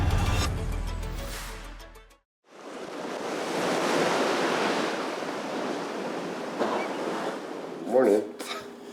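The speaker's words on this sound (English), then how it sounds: "You can't wake up to a better sound and a better like feeling than that ocean." Ocean waves break on the shore in a steady, full wash of surf after a brief muffled gap, the broad roar swelling and easing with a louder surge near the end.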